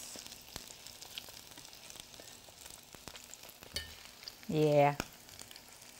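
Tuna cakes fry in oil in a pan, a faint steady sizzle and crackle with occasional sharp pops, while a person briefly speaks near the end.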